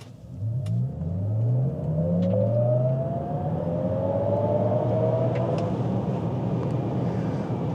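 A Cadillac LYRIQ electric car accelerates in sport mode. Its motor whine sweeps upward in rising layered tones over steady road and cabin rumble, with no talking.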